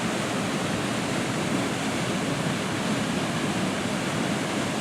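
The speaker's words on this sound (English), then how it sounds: "come down here to Wren Falls for the first time" Wren Falls, a remote waterfall, gives off a steady, broadband rushing roar, close and unbroken, with no voices.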